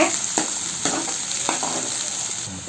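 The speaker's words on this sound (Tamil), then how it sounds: "ஒரு பெரிய சைஸ் வெங்காயத்தை இது போல் பொடியாக கட் பண்ணி வச்சுருக்கேன் இது கூட சேர்த்துக்கிறேன் சேர்த்துட்டு நல்லா இது போல் வதக்கி விடுங்க" Finely chopped onion sautés in a pan with a steady close sizzle, punctuated by a few spatula scrapes and stirs.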